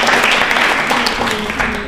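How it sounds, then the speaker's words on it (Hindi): Brief burst of audience clapping at a state-level election quiz show, loud and close, with a voice partly mixed in. "तालियां बजा सकते हैं जानकारी के लिए भी कभी कभी"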